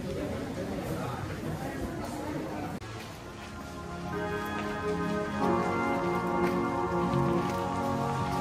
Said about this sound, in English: It's raining and we are taking a break at one of the shrines at Nara Park.